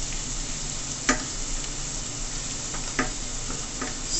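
Garlic fries in a pan for curry salt fish, giving a constant close sizzle with a couple of sharp utensil clicks as it is stirred.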